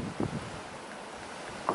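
Wind gusts roar across the microphone at a hunting glassing point in the morning, a continuous broadband rush, with a few brief buffeting thumps and no speech.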